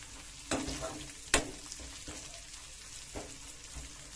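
Fish sizzles steadily in hot oil, with a couple of sharp clinks and pops standing out over the continuous frying hiss.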